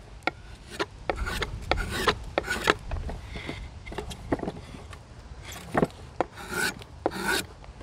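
Steel drawknife shaving a piece of wood into a rough spatula blade, a run of repeated rasping strokes with short pauses between them, fairly close and steady in rhythm, no talk.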